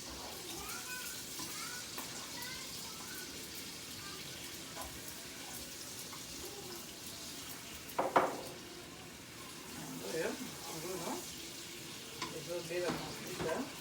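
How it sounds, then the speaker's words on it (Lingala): Onions fry in oil in a pan with a steady, moderate sizzle throughout, joined by a few clinks and stirring sounds near the end. "Nakotia matungulu na ngai na mafuta."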